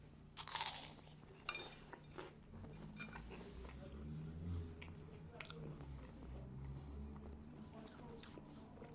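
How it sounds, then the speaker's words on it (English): Someone bites into a piece of crunchy pavlova meringue, with a loud crackling crunch followed by several softer crisp bites and quieter chewing close to the microphone. "I'm just gonna do a little taste test of a piece of the Pavlova"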